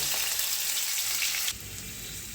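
Potatoes fry in hot oil in a wok with a steady, bright sizzle that holds at an even level. The crackle drops back abruptly near the end, then picks up briefly.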